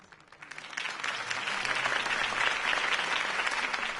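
Applause in the video game Batman: Realm of Shadows swells from scattered claps into a dense, steady ovation from a sizeable crowd, sustained at full volume to the end.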